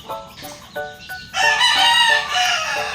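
A few clucks from a backyard chicken, then a backyard rooster crows loudly and close by in one long, drawn-out call.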